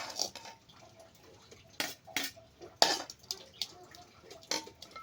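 Dishes, pots and utensils are washed by hand. Scattered clinks and sharp metallic clatters ring out at irregular intervals, with soft scraping and faint water sounds in between.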